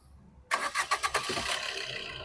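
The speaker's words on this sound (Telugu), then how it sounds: "సింగిల్ సెల్ఫ్ బండి స్టార్ట్ అవుతుంది సార్." A 2019 Maruti Suzuki Vitara Brezza LDi diesel cranks briefly on its self-starter and catches at once, giving a few quick loud pulses that settle into a steady close idle.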